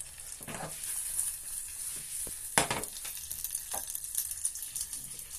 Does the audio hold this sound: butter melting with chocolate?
yes